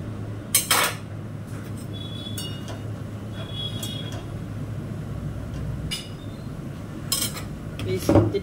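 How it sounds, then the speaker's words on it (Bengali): Hilsa fish pieces go one by one into a hot pan, giving a few clinks and splashy hits over a steady sizzling hum, close by, with no one speaking. "একটা একটা করে ইলিশ মাছ দিয়ে দিচ্ছি"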